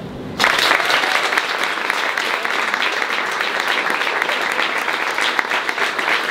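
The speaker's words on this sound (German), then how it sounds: "Jetzt mit einem ganz, ganz grossen Applaus der Peter Bolliger" A live audience gives Peter Bolliger a big round of applause at a talk event, dense loud clapping that starts abruptly and stays steady for several seconds.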